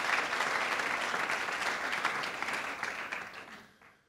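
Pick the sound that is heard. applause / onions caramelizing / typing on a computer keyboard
applause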